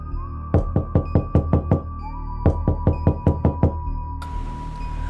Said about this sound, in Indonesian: Ia mengetuk pintunya.